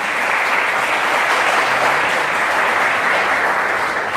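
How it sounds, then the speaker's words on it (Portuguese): Loud, steady applause from a church congregation fills the space, a dense sustained clapping with no pauses, honouring Jesus during a worship service. "Você pode dar uma salva de palmas para Jesus?"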